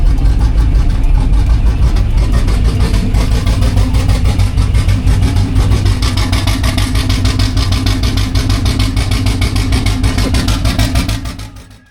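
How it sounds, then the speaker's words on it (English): Junkyard turbocharged 5.3L V8 running rough on only four cylinders, a loud steady idle with an uneven, lumpy rumble throughout before cutting off abruptly at the end. "when we went to fire it up, it was only running on 4 cylinders"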